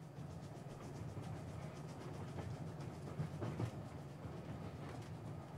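Quiet, steady rumble of a train ride in the Yurukill video game, with soft rhythmic clacking of wheels on track and a few brief louder knocks, no speech over it.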